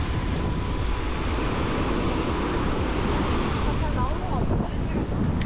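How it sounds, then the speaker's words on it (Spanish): Ocean waves break on a beach at Playa del Carmen, a continuous rushing surf heavily mixed with wind buffeting the microphone, steady and fairly loud with no clear separate breakers. "ahí como que las olas rompen más allá y aquí va más tranquila el agua"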